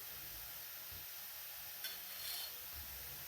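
Peanut paste is stirred into a pan of vegetable curry as it cooks, giving a soft steady sizzle and hiss with faint spoon scrapes underneath, close and fairly quiet throughout.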